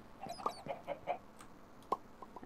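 Chickens in the Minecraft modpack Sky Factory 3 cluck in a quick series of short, close calls, with a few sparse clucks trailing off afterward and no talking.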